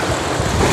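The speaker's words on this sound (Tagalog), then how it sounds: "Malakas ang alon lang." Strong waves wash against the water near a fishing spot in Barangay Tadlak, Los Baños, Laguna, a loud continuous rush of surf mixed with wind buffeting the microphone close by.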